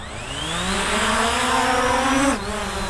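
Motors on a budget camera drone, an SG906 Pro or Hubsan Zino, spin up for a manual takeoff. They give a loud, close, rising insect-like whine that climbs steadily in pitch and then drops off sharply near the end.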